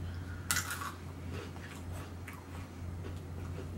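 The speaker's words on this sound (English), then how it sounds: "This is like a crunchy cookie." Someone bites into a crunchy snack cookie during a tasting, giving one sharp crunch followed by a few fainter chewing crackles, close to the microphone.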